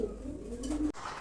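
Pigeons on a farm give soft, low cooing close by, a steady murmur that carries for about a second before breaking off abruptly.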